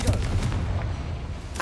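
A Confringo fire spell explodes in Hogwarts Legacy, a heavy booming blast with a rolling low rumble, then a sharp burst near the end, loud and close.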